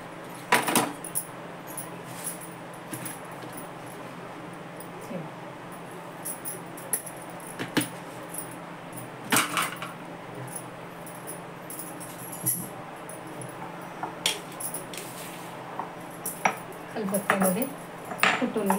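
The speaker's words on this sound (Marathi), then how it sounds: "खलबत्त्यामध्ये कुटून घेते." Cumin, garlic and salt pounded in a mortar and pestle, giving a steady series of knocks and metallic clinks nearby over a continuous background hum, with occasional soft voice.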